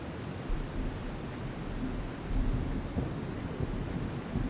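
A tropical storm rolling in within a video game, a continuous low rumble of thunder and rain-like noise, steady and fairly loud with swelling surges.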